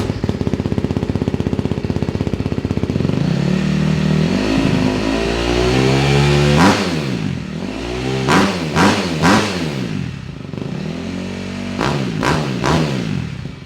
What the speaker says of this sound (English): now you need to start the bike up to cycle the oil through the engine